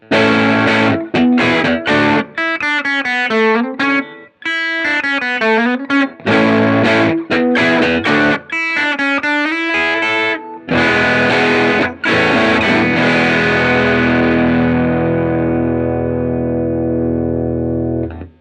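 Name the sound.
electric guitar through Benson Germanium Boost driving Strymon Iridium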